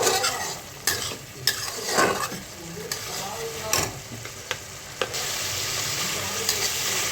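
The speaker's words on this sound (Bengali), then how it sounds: "এবার ভালো করে কষবে।" Spices and yogurt stir-fried in a pan for Bengali doi pabda fish curry, with a steady sizzle under repeated scraping strokes of a spatula every second or so, close and fairly loud, no talking.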